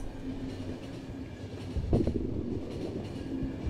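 A train runs steadily in the video game The Final Station, with a constant low rumble of wheels and carriage noise and a slightly louder clatter near the middle, no voices.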